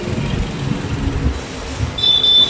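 A Bangalore metro train on the Yellow Line at Delta station gives a close, steady low rumble, and a thin high wheel squeal rises near the end.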